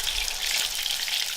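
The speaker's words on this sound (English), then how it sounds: "you can see that bubbling around the latke. That tells you your oil is pretty much at exactly the right temperature" Latkes frying in hot oil at the right temperature, a steady close sizzle and bubbling hiss that runs evenly throughout without pause.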